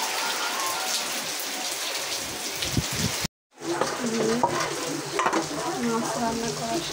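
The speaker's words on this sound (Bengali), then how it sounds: "এখন হচ্ছে বেগুনটা ভাজি করতেছি।" Eggplant frying in a pan gives a steady, close sizzle and crackle, broken by a brief moment of silence midway, with occasional light stirring clinks.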